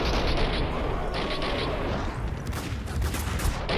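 Dense, continuous bursts of gunfire with booming explosions in Max Payne 2, loud and chaotic throughout, like a heavy video game firefight.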